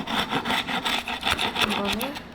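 Repeated rhythmic rasping strokes of sandpaper rubbing across a surface during apartment remodeling prep for painting, close up, about a dozen even passes in quick succession.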